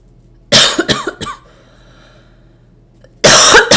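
During a quiet meditation session, a person coughs loud and close, three quick coughs in a row, then a pause of near silence before another harsh cough burst.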